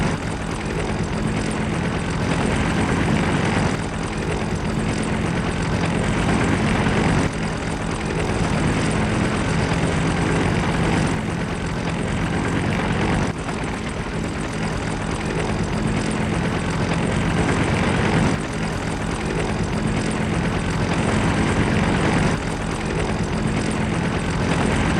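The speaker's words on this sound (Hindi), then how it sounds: "आग बुझाने में जुटे हेलीकॉप्टर्स, आसमान से की जा रही है पानी की बौछार" Firefighting helicopters working over a California wildfire, a loud, unbroken engine and rotor drone that holds steady for the whole stretch with no voices.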